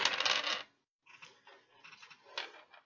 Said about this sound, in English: I'm going to roll dice for you.